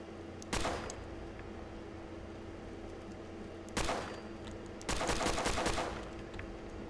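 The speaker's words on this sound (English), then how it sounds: "it's time to start randomly shooting shit" Gunfire in the video game Fallout: a single loud shot, a second shot a few seconds later, then a quick cluster of rapid shots, each ringing out sharply over quiet background.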